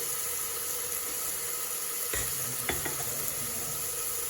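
Masala spices tipped into a hot frying pan for soya chunk kurma, a steady loud sizzle of oil with a couple of sharp clinks and scrapes from a spoon partway through.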